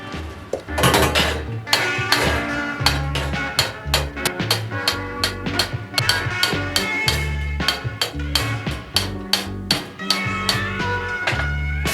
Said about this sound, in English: I think I will hammer a little bit more on the top of the bow area.